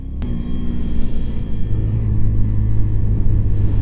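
A Sinnis Apache SM 125 motorcycle engine rumbles loudly and close, a deep steady drone with low harmonic tones that firm up as the revs settle, after a sharp click at the start, with no voices.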